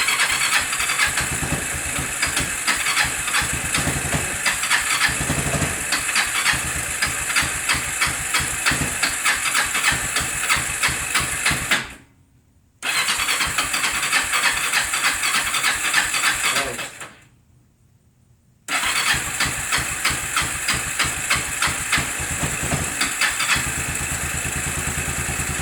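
A cheap Bayou 300 ATV engine with the choke on runs loud and close in a steady, rapid idle chug, cutting out twice into brief silence before firing back up and settling into the same busy idle.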